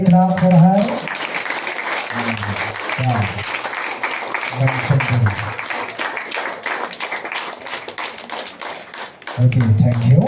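An audience claps for a student at an award ceremony. Dense, sustained applause fills most of the stretch, and a voice is heard briefly at the start and again at the end.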